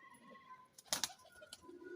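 Pigeons at a rooftop loft in Lahore give soft, low cooing notes, faint and fairly close, alongside a brief louder flutter or rustle and quiet ambient noise.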